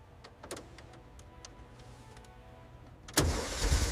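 Quiet clicks and faint mechanical ticking, then the engine of a restored 1937 Chrysler Airflow Coupe abruptly cranks and catches, roaring up loud and close for the final second.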